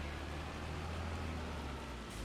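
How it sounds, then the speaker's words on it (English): A hailstorm in the farming video game Farming Simulator 25 produces a loud, dense, unbroken hiss of hail and rain that holds steady before easing slightly at the end, with no talking. "the worst thing about the hail is it's so loud compared is to everything loud"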